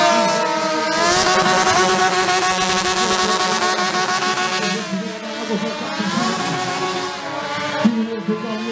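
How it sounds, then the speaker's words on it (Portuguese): Yamaha XJ6 motorcycle engine at an outdoor stunt show, loud and close, revving with rising and falling pitch, with a steady roar and a crowd murmur beneath. "Piloto da Noni conduzindo a máquina XJ6M."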